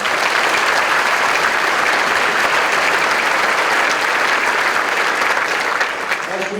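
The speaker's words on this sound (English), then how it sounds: "Let's give them a round of applause." Audience at a mayor's business luncheon applauding hotel servers, a dense, loud, sustained round of clapping from a large room that continues evenly throughout.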